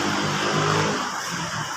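The engine of a Suzuki Celerio with a manual transmission idles steadily nearby during a service check-up, a close, even mechanical hum with no talk over it.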